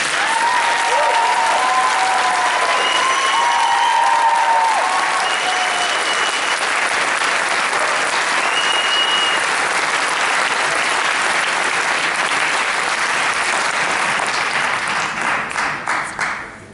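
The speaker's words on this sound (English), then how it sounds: "I would ask people to hold their applaud" Loud, sustained applause from a crowd at a school board meeting, dense clapping lasting well over ten seconds with a few cheers and voices mixed in early before it tapers off.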